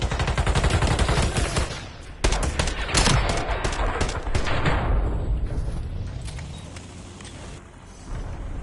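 Rapid gunfire crackles in the Black Ops 7 video game during a Search and Destroy match, dense bursts of shots that thin out and fade toward the end.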